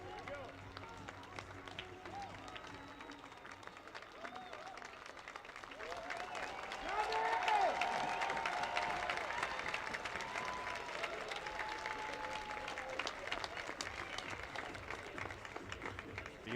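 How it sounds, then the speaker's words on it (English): A baseball stadium crowd at a league finals game applauds and cheers as a veteran starting pitcher leaves the mound, a broad steady roar of clapping that swells midway and stays loud, with an announcer's voice faintly over it. "And let's listen to this crowd"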